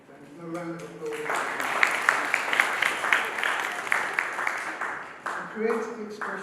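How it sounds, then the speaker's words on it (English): Audience applause at a school prize day, steady clapping swelling in after a brief announcer's voice and continuing fairly loud, with a voice returning near the end. "A round of applause."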